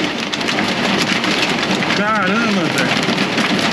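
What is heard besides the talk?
hail hitting van windshield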